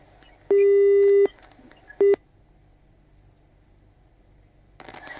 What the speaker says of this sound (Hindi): राजेश जी भी हमारे फोन काट कर चले गए हैं